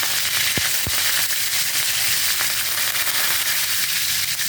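Cumin seeds and curry leaves sizzle and crackle steadily in hot oil in a pan, with a couple of sharp pops early on over a dense, continuous frying hiss.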